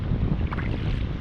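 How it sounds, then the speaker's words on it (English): A warm-day breeze buffets the microphone in a steady low rumble, close and continuous, with no voices. "nice warm day with the breeze blowing"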